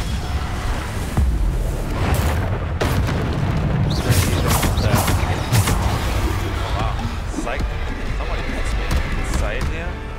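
Bombarda spell explosions boom repeatedly in Hogwarts Legacy gameplay, several punchy blasts and impacts scattered over dense game sound while a voice talks throughout.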